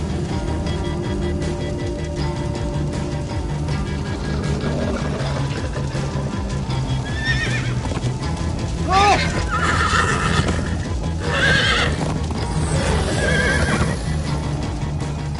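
Minecraft: Story Mode video game horses neigh several times over galloping hooves, all under a constant background rumble with voices talking.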